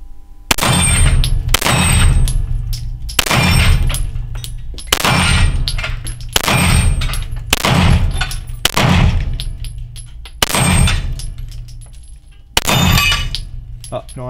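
Heckler & Koch SFP9 OR Match pistol fired on a range, eight loud close shots spaced a second or two apart, each ringing with a sharp metallic echo.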